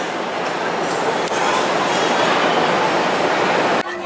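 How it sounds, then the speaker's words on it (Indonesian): The Bengawan passenger train pulls into Purwokerto station with a continuous rolling rumble and rattling car noise, then a sudden drop near the end. "Kereta api kita Bengawan telah sampai di stasiun Purwokerto"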